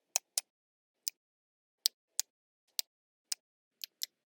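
Caribou hooves give sharp, dry clicks as foot tendons snap over bone with each step, about ten isolated clicks in an irregular walking rhythm against silence.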